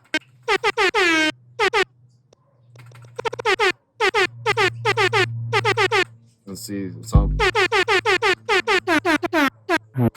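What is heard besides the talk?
air horn sample on sampler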